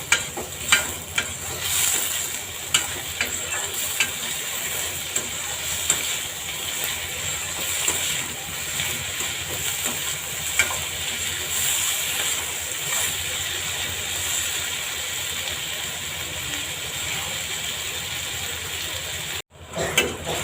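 Onions sauté in a pan with a dense, even sizzle and sputter, repeated scraping stirs and utensil clicks along the way, then a sudden short dropout near the end, no talk.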